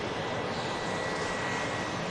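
Etihad Boeing 777 departing Manchester Airport for Abu Dhabi, a steady broadband jet engine roar holding at a constant, fairly loud level throughout, with no voices.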